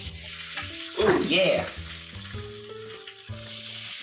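Fish laid presentation side down in a hot pan sizzles steadily and up close, with a brief louder flare of frying as it settles, under quiet background music and a short spoken remark.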